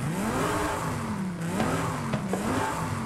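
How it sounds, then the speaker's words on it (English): A car engine fitted with a supercharger under the hood revs in rolling waves, with a thin high whine riding over the loud, steady motor drone. "Yep, that is the supercharger under the hood."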